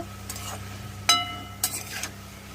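Pumpkin with salt, turmeric and chili powder is stirred in a pan, with a low faint sizzle underneath and a few sharp scraping strokes at irregular intervals, close by and without talking.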